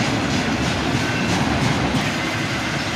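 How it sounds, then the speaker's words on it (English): A long freight train of loaded auto frame cars rolls steadily past close by, a loud, continuous rumble of wheels and rail noise with a faint clickety-clack rhythm and no voices. "And now, a cut of loaded auto frame cars."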